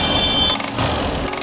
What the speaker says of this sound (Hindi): और आप देख सकते हैं इसके इंजन में एक आवाज़ पैदा हो गई है